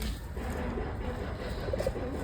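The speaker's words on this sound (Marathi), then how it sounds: "कबूतर बघा आपली" Soft pigeon cooing, a brief low murmur of a few coos, heard faintly beneath steady background noise.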